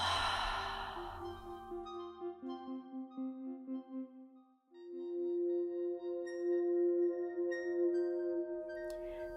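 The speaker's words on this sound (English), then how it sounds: "Another deep inhale, followed by an exhale." A slow, deep exhale during evening yoga breathing, soft and close, drawn out over several seconds in a quiet room.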